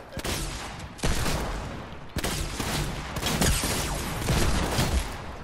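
Heavy shotgun blasts in the video game Gun fright boom loud and close, with sharp reports at roughly one-second intervals over dense chaotic gunfire and no voices.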